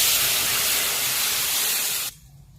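Leftover amti poured into a hot tempering of oil, mustard, cumin, garlic, turmeric and asafoetida gives a loud, dense hissing sizzle that holds steady, then drops off abruptly near the end.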